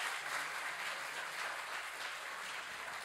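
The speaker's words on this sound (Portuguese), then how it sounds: "Uma salva de palmas a eles." A forum audience applauds the winners, Johnny and Camila, with dense, even clapping that sounds fairly distant and soft and holds steady throughout, with no speech.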